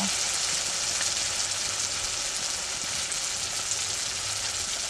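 Onion and tomato sizzle softly in a pan, the tomato cooked down to a soft mash while a dense, even hiss of frying runs steadily throughout at close range.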